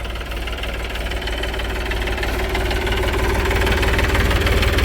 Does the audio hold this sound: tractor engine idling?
yes